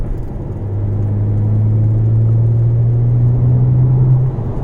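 A 2009 BMW 335i coupe drives under light throttle, its engine a steady, smooth low drone with a sustained tone that rises slightly and then fades, heard from inside the car.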